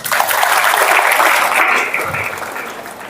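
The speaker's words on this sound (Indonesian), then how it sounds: "Tepuk tangan." A seated audience of teachers claps together in a loud, full burst of applause that gradually thins and softens toward the end.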